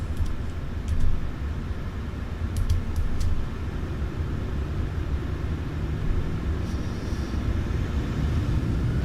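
A small fixed-wing airplane accelerates down a runway on its takeoff roll, a steady broad engine roar and rumble filling the cabin, continuous and loud throughout, with no talk.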